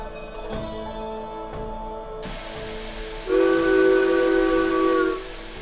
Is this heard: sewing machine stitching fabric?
no